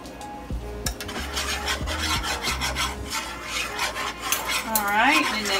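A whisk scrapes flour around a pan in a steady, rapid, rhythmic rasping that runs close and loud throughout, with faint tonal background music at the start.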